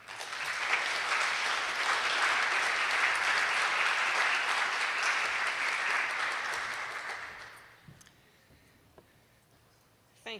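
Sustained applause from an audience welcoming an award recipient at a science award ceremony, steady and dense for about seven seconds before fading out, followed by a few faint scattered sounds.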